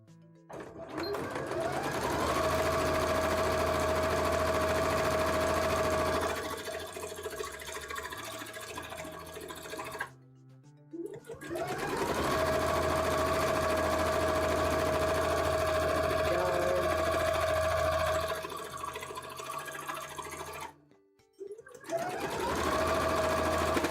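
A sewing machine runs in long, fast, even bursts while top stitching a sleeve, with a whirring motor tone. It pauses twice briefly between runs, then starts again.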